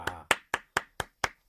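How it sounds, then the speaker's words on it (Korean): Six sharp, separate hand claps ring out at a quick, even pace, close and crisp, each one dying away before the next, with no one talking. "박수."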